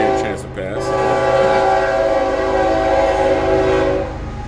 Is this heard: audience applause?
no